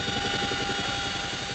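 A helicopter flies over mountain villages in Pakistan with a steady rhythmic rotor chop and engine drone, fairly close and continuous with no talk.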